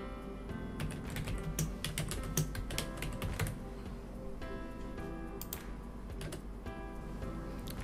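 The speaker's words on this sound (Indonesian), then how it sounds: "lalu ketikkan tagline Anda." Computer keyboard typing while entering text in a design tool, with steady rapid key clicks at close range over a faint background music bed, no voice heard.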